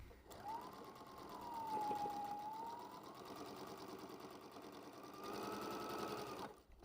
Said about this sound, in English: then we're gonna sew all the way around the square